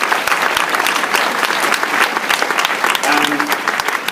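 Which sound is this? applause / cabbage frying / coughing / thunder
applause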